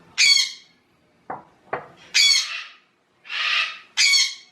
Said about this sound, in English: you've never heard a parrot scream